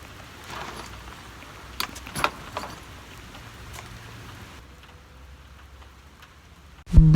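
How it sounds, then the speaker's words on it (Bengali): Heavy rain falling outdoors in Italy, an even hiss of rainfall with scattered sharper drops and clicks, ending with a sudden loud knock close by. "বৃষ্টি এত পরিমাণ বেড়েছিল যে আমাকে লাস্ট পর্যন্ত বাসায় ফেরা হলো না"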